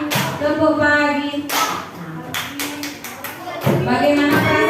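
Children in a classroom clap out the rhythmic "tepuk pagi" clapping game, sharp hand claps arriving in quick bursts mixed with their chanting voices and chatter.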